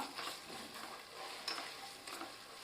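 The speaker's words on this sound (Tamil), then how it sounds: "1 தேக்கரண்டி காஷ்மீரி மிளகாய் தூள், இதை நல்லா கலந்து விட்டுக்கலாம்" Kashmiri chilli powder is stirred into a frying masala for Vaniyambadi mutton biryani. The result is a close, steady sizzle broken by a few soft scraping strokes of the spoon, with no voices.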